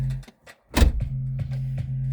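A Ford Mustang Mach-E door closes with a single solid thump, loud and close, while a steady low tone hums before and after it.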